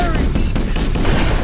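Gunfire in Halo CE, a short burst of rapid, overlapping shots with muffled booms, steady and loud throughout, with faint voices in the mix.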